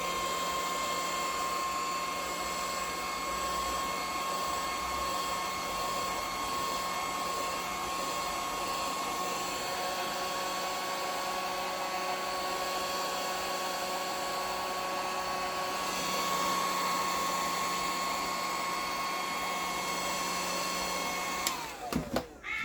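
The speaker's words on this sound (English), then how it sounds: "So for that I use a little spatula and my heat gun" Heat gun blowing hot air onto resin spillage running down the sides of a piece, a steady, loud broadband whoosh with a constant whine that holds for about twenty seconds, then cuts off with a few clatters.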